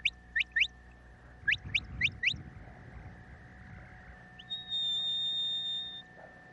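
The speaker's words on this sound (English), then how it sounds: "if you're wanting to speed your dog up with a whistle" Sharp rising herding whistles sound in quick bursts, three then four chirps, followed by a longer steady high whistle tone, given as commands to a working sheepdog outdoors, fairly clear against a faint rumbling background.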